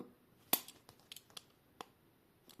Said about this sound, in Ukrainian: Я ось так чуть-чуть надрізав скотч